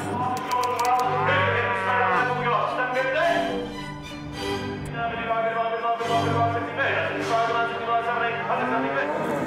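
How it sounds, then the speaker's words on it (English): A cow moos repeatedly at a cattle auction, with loud, close, drawn-out bellows that rise and fall across the whole stretch. "we've got a, a cow here"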